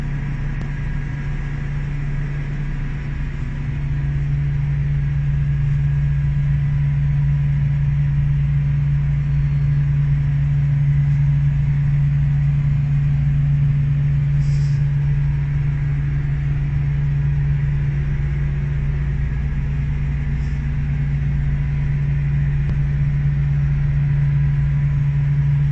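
A pneumatic blower discharging cement through one line aboard a self-unloading cement carrier, a steady loud mechanical hum with a constant low tone that holds unchanged throughout.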